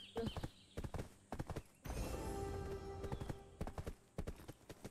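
Horse hooves clip-clopping in the Black Desert online role-playing game, a quick run of regular hoof beats coming and going in bursts, with a sustained rushing, tonal stretch of game sound in the middle.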